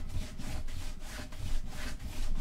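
A rag rubs a rubber stamp to clean off ink residue, making close, continuous back-and-forth scrubbing strokes in a steady rhythm with no talk.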